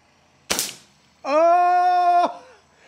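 A Hatsan Velox semi-auto PCP air pistol fires one sharp, loud crack, followed about a second later by a sustained electronic tone lasting roughly a second, close and otherwise quiet.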